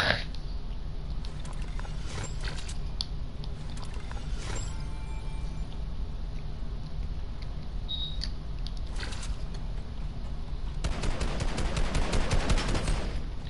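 Rapid drum gun bursts in a Fortnite match, a dense chattering stream of automatic fire running almost the whole way through, getting louder and harsher toward the end with no talking over it.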